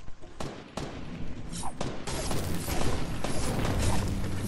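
Gunfire in the Fortnite Battle Royale game, scattered sharp shots mixed with clicking mechanical game sounds, fairly loud and close, with no talk.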